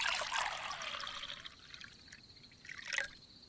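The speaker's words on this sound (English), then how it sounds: "Might be ready for that wine now, Mabel. Pour me a glass." Wine trickles and pours into a glass in a quiet room, a steady liquid stream for about a second and a half with a brief splashy swell near the end.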